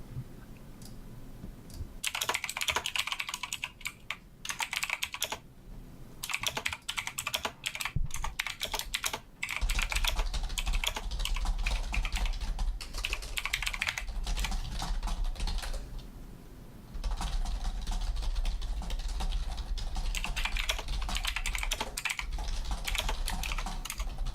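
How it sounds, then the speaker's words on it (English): Rapid typing on a computer keyboard, dense clicking keystrokes in bursts with a few short pauses, close and fairly loud with no talking. "I'm also providing typing ASMR."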